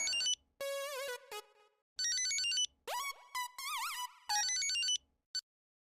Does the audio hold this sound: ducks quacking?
no